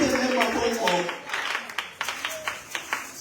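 A church congregation applauds in scattered fashion, sharp individual claps rising through the second half while a voice speaks over the start.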